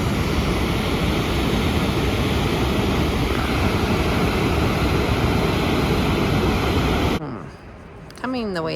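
An Icelandic waterfall roars in a dense, steady wash of loud rushing water for about seven seconds before cutting off abruptly, leaving quieter background sound.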